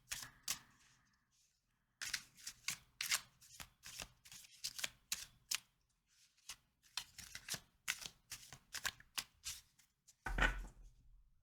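A deck of playing cards being shuffled in quick bursts, crisp riffling flutters repeating with short pauses between them, close and fairly quiet, with no talk over it.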